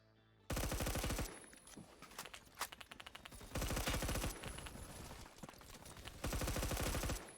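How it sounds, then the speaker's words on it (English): An M4A1 rifle with no attachments in Roblox Phantom Forces: loud, close full-auto bursts in three long strings, with a few single shots between them. "M4A1 with no attachments, let's go."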